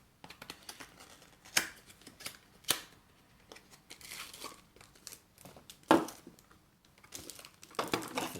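Plastic packaging around a cheap LED lightbulb crinkles and rustles while being opened, with several sharp louder crackles and tearing bursts scattered through, no talking.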